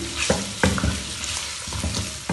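Onions fry in a pan for mutton karahi, a steady close sizzle broken by several distinct scraping stirs of a spoon against the pan.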